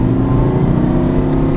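An Aston Martin V8 Vantage accelerates on a racing circuit, a loud, close engine note rising in a brief, dense revving burst heard from inside the car, with no talk.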